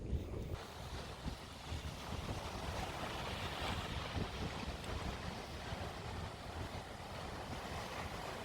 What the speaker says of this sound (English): It's just nice to sit sometimes and listen to and watch the waves and listen to it.